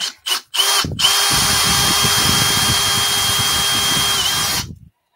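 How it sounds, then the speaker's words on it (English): A power drill bores a hole in a craft mould, whining loudly and steadily for about four seconds after a few short trigger bursts, then cutting off abruptly. "when you guys are using the drill bit, be very careful"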